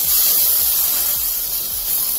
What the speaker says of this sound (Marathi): आता आपण कढईत 1 छोटा टोमॅटो परतून घेऊया